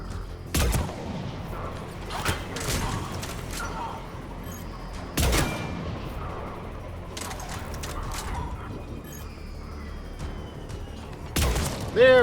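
Gunfire in the Mass Effect 3 video game: several loud broadband shots and bursts spaced across the clip, with a steady battle ambience between them.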